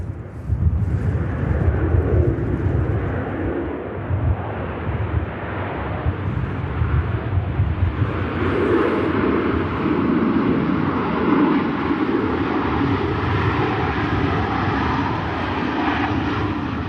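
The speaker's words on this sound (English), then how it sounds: "Nice touchdown from the Ryanair too." A Ryanair airliner touching down at Manchester Airport, a loud broad engine roar with rumbling low end that holds steady and slowly shifts as it rolls out.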